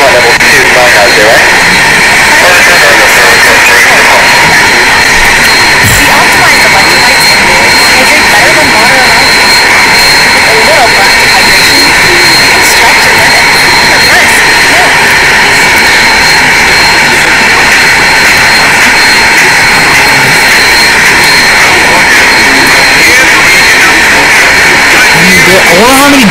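Airbus A380 jet engines roaring loud and continuous during a barrel-rolling flying display at an airshow, a steady broadband rumble heard from a distance with no speech over it.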